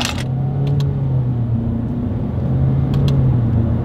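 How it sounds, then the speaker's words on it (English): A 2020 Honda HR-V with a CVT accelerating during a paddle shifter test, heard as a steady low engine drone from inside the cabin. Faint clicks of the paddles punctuate it. "Let's do a quick little paddle shifter test since we have them, and let's see how quickly they are going to actually react for us here."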